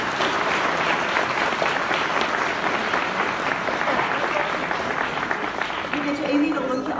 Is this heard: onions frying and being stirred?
no